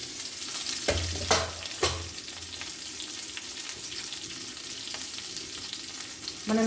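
Green chillies frying in a pan make a steady close sizzle, broken by a few louder stirring scrapes near the start and a clatter at the end.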